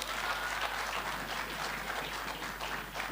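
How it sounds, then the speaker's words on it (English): At a Grade 7 farewell luncheon, the audience claps again for the Grade 7 girls after their dance, a steady wash of many hands at moderate volume throughout. "Another big clap to them."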